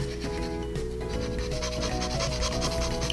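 Steady, continuous rasping and rubbing from an Argofile carving sander working into the gaps of a small part to sharpen it, close and even throughout, over a faint background hum.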